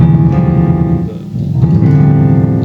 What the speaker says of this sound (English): There's like this rumble sound.